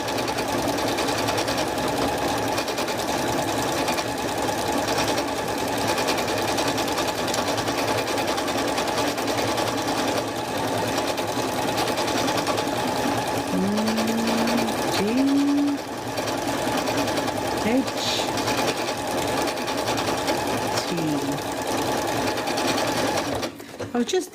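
A home sewing machine runs almost nonstop, stitching a label for a quilt, a fast steady mechanical whir close up, with a person talking over it throughout.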